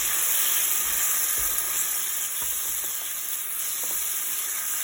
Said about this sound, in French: Dès que ça fume, on incorpore le beurre.